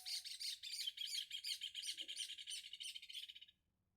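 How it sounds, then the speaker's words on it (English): Outdoor birds chirp in rapid, repeated high tweets, fairly faint and continuous, then fall quiet at the end. "I was waiting for the birds."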